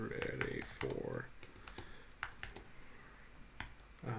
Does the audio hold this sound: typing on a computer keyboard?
yes